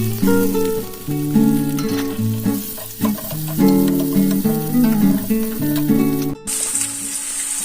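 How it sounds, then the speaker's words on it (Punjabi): A tadka for cauliflower and pea bhurji hits hot oil with a steady, continuous sizzle that runs for the whole stretch, paired with tonal, music-like sounds. "ਤੇਲ ਹੋ ਗਿਆ ਗਰਮ ਤੇ ਹੁਣ ਆਪਾਂ ਇਹਦੇ ਵਿੱਚ ਪਾ ਰਹੇ ਹਾਂ ਜੀ ਤੜਕਾ"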